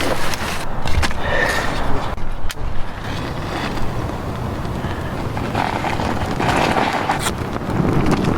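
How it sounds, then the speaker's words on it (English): Strong wind at an early-spring campsite by a beaver pond roars steadily and buffets the microphone in loud gusts, with a constant rushing rumble throughout. "It's like really windy"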